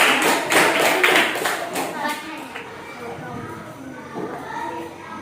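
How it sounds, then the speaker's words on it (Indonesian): A class applauds for group 2, with a burst of brisk, rapid hand claps from a small group that fades after about two seconds, leaving quieter voices talking. "tepuk tangan untuk kelompok 2"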